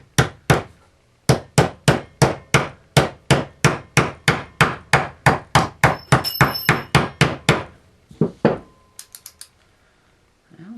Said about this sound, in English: I'll take my hammer,